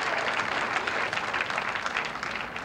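A bowling crowd at the 1989 Seagrams Coolers US Open in Edmond, Oklahoma, breaks into sustained applause, a dense, even wash of clapping that holds loud and steady throughout.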